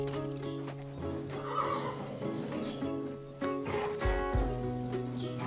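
A horse neighs amid a dramatic orchestral film score, with a brief clip-clop of hooves; the whinny sits in a busy music bed rather than standing alone.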